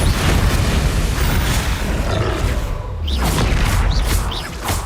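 Bombarda explosion spells going off in the video game Hogwarts Legacy, loud booming blasts and crashing rumble filling the scene with several sharp bursts.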